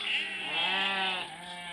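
A single sheep bleats on a farm where around a thousand sheep are raised for trade, a wavering bleat close and clear, trailing off softly near the end.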